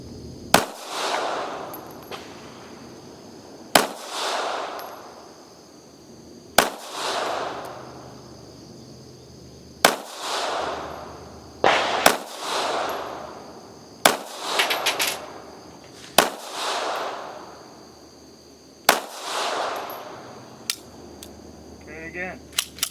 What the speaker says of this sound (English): We're going to fire some more factory ammo and take a look in terms of accuracy.